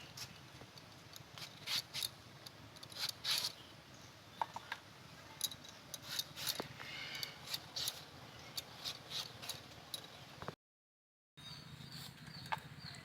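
A knife slices a tomato into thin strips, a run of crisp, quick cutting clicks at an uneven rhythm, close and quiet in a kitchen, with a brief dropout near the end.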